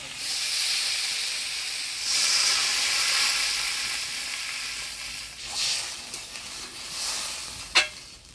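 Water poured into a pan of frying spices and taro for a fish curry, giving a steady loud sizzle and hiss that swells around two seconds, with stirring clatter and a sharp knock near the end.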